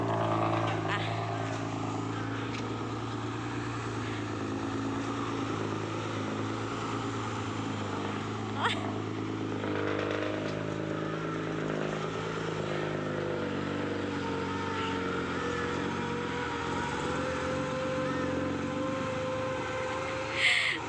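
A mud-sweeping vehicle's engine runs steadily at moderate volume, a continuous rumbling drone with a brief knock partway through and a small bump at the end.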